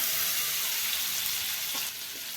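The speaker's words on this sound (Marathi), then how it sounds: "याच्यामध्ये आपण लसूण ऍड करूयात, हिंग ऍड करूयात" Garlic and asafoetida sizzle steadily in hot oil for buttermilk kadhi, a close, continuous frying hiss with a faint clink near the end and no talking.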